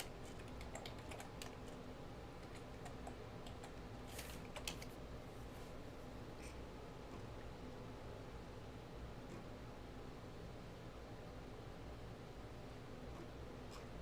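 Computer keyboard typed on in short faint bursts of key clicks early on, then a steady quiet hiss of room and fan noise; no talk.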